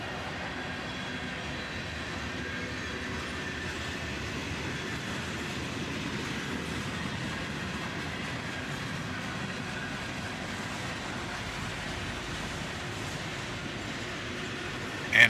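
A freight train with high-top gondola cars rolls past at a steady pace, producing a continuous rumble and faint wheel clatter at moderate distance, with no talk over it.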